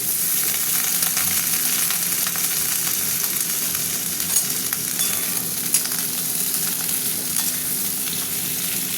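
Vegetables, eggplant and potato, hit hot oil in a pan with onion, dried red chilli and cumin powder, giving a steady, dense sizzle that runs close and unbroken with no voices.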